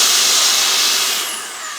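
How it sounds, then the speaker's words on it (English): A Milwaukee precision blower runs close and loud with a steady, intense rushing hiss that eases slightly toward the end, alone without talk. "they call it a precision blower"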